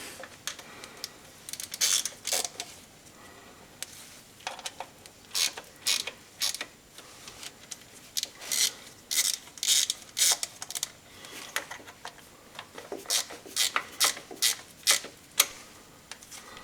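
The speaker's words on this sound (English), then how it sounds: "we'll just nip up a couple of those bolts" Ratchet and socket tightening bolts on a Ford 1.8 TDCi engine, repeated bursts of rapid clicking in uneven groups with short pauses between strokes, close and clear with no talk.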